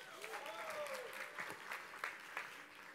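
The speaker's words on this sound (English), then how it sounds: "Another round of applause." Audience applause fills a room at a live talk event, a dense, sustained patter of many hands clapping with a few whoops, moderately distant.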